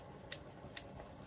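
Kitchen scissors snip fresh herbs inside a glass while cooking ratatouille, with two crisp close cuts and a fainter third against low room noise.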